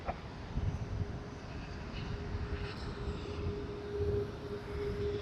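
An aircraft takes off from runway 34 left at Sydney Airport, a steady distant engine roar with a broad rumble that swells slightly toward the end.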